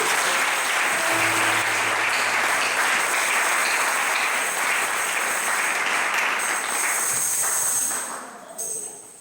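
A church congregation at an evangelical conference applauds and cheers, a dense, loud, sustained wash of clapping and voices that fades near the end.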